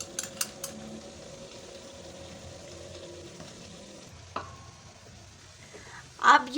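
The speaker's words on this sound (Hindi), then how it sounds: "अब इसको हम मिक्स करेंगे" Mustard greens with salt and chilli stirred in a pot for sarson ka saag, a faint, steady low rustle and sizzle with a few light clicks and a brief utensil clatter near the end.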